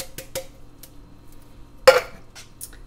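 Canned sweet corn tipped into a pot for a vegan summer squash soup: a few light metallic clinks, then one sharp clatter and wet slide of kernels landing, followed by faint scraping in a quiet kitchen.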